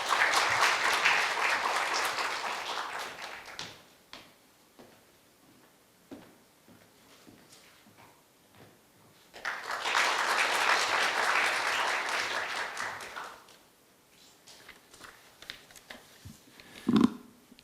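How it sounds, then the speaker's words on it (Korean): University lecture audience applauding to welcome the university president, two bursts of steady applause a few seconds long separated by quieter stretches of shuffling and small knocks, with a sharp thump near the end. "박수로 맞이해 주시기 바랍니다."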